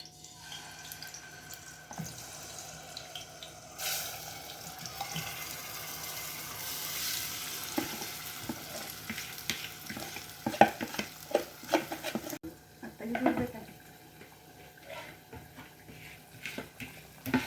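Spiced, salted chicken keema goes into hot oil for a Hubli-style curry, giving a quiet, intermittent sizzle mixed with scraping and stirring in the pan, plus a few louder clatters.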